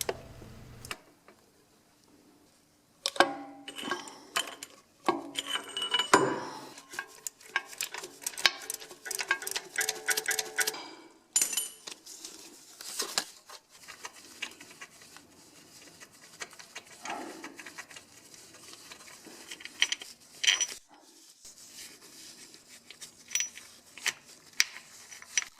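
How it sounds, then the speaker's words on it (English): A regular socket wrench with a pipe slipped over the handle for leverage works a 15mm starter bolt on a Ford Mustang 3.7L V6, giving close, irregular ratcheting clicks and metallic taps in bursts with short pauses. "I prefer to use just a regular socket wrench, and then I have a pipe that I fit over to give it more leverage"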